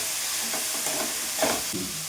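Vegetables fry in a pan with a steady, hissing sizzle, broken by a few soft stirring scrapes close by.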